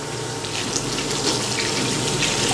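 Water runs steadily from a tap into a sink during handwashing, a constant close hiss and splash with no speech.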